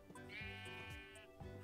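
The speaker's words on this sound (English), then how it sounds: "It's a sheep. Not what I want, but it's a sheep." A sheep in a video game gives a single drawn-out bleat, quiet and clear, with no talk over it.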